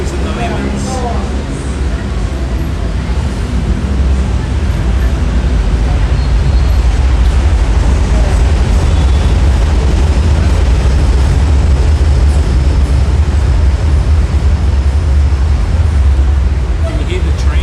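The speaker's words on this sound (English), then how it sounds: "The train is very, very loud." A loud new metro train in Hanoi rumbles steadily and close by, a heavy continuous low roar with rattling and hiss above it, while voices talk faintly underneath.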